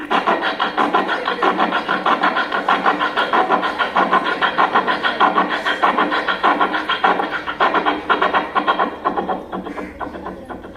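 At a school mimicry performance, a voice imitates a train speeding up with loud, rhythmic chugging pulses that repeat steadily and close up throughout, with no other talk.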